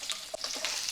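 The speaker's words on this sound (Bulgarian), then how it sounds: "Ще изчакам маста да се разтопи." Lard melting and frying in a pan, a steady bright sizzle with small crackles, close and alone.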